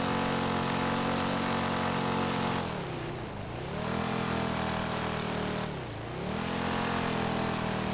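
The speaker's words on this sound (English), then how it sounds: "One thing about muscle cars, Ken, is they're super loud." Loud, steady muscle car engine roar in GTA V, droning with a low-pitched hum and dipping twice as it eases off before swelling back up.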